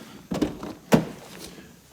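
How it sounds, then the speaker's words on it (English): The rear suicide door of a Toyota FJ Cruiser gives two solid thunks about half a second apart, close by in a quiet space, followed by faint rustling. "rear suicide door."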